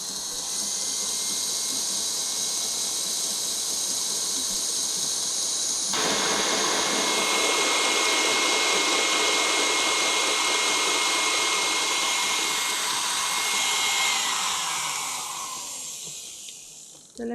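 A stand mixer whips Italian meringue for vanilla buttercream at increased speed, a loud, steady whirring roar that grows fuller partway through and then tapers off at the end.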